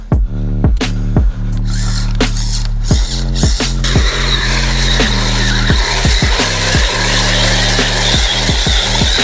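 An RC Chevrolet Colorado basher truck revs and skids hard, its whining motor broken by repeated sharp clattering impacts and gear ratchets, loud and close with no talking.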